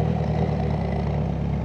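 Kawasaki Z900 motorcycle fitted with a full system exhaust, a steady mid-pitched engine rumble at close range that holds constant through a brief moment with no talking.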